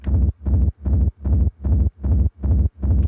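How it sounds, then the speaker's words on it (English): A stretched kick drum with reverb, amp distortion and sidechain pumping forms a schranz rumble, eight heavy, evenly spaced low booms that swell and cut off in a steady, driving pulse. "stretching the kick, adding some reverb"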